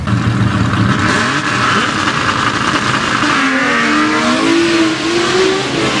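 Roaring drag racing cars accelerating hard and close on a drag strip, a loud continuous drone with rising revs and no pause throughout.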